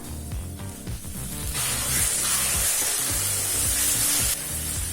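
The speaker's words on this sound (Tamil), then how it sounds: "இப்ப வெங்காயம் நல்லா வதங்கிடுச்சுங்க." Onions sautéing in a pan for tomato rice, a loud close sizzle that swells into a bright hissing spray midway with occasional stirring scrapes, no voice.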